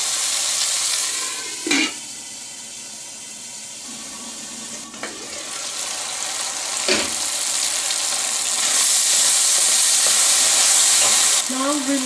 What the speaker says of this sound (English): cook till it gets semi-cooked on a medium flame